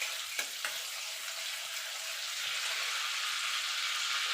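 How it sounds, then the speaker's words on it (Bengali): Butter melts in a pan with a continuous soft sizzle and fine crackle, broken by two brief utensil taps near the start. "এবার বাটারটা গলা পর্যন্ত অপেক্ষা করব।"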